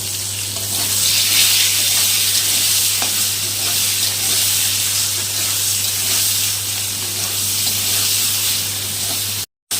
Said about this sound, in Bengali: এখন আলুটা আগে ভেজে নেব